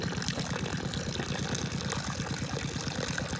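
Water flows from the pipe of a solar-powered pump on farmland, a steady close rush with a rhythmic low pulsing underneath and no voices.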